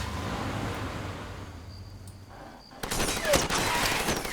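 In the video game Far Cry 2, a low rumble fades to near quiet, then a burst of rapid gunfire breaks out and continues loudly to the end.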